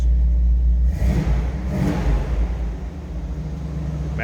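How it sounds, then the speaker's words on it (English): A 1955 Chevrolet 3100 pickup with Magnaflow exhausts revs once with a deep, throaty surge, then settles back into a loud, steady, rumbling idle close by. "Listen to that good sounding exhaust"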